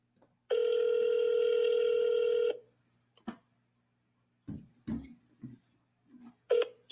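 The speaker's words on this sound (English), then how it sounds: "See if they pick up the phone." One steady two-second ringback tone sounds on an outgoing phone call, followed by short, faint clicks and bursts of line noise.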